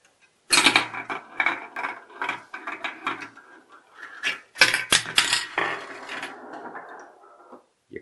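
A leprechaun-catching toy game is cranked by hand, giving a close, busy clatter of ratcheting plastic gears and clicks in uneven bursts that slows and fades near the end.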